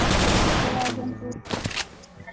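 Rapid gunfire bursts in the shooting game Bullet Angel, a dense fusillade at the start fading, then a short second burst, loud and close.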